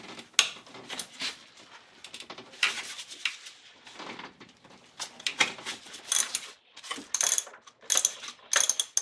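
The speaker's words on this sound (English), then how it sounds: "So I've got a 14 millimeter on my ratchet here." A ratchet fitted with a 14 mm socket loosens a bolt on a 1999 Acura RL, giving bursts of quick, close clicking pawl sounds in irregular runs with short pauses between strokes.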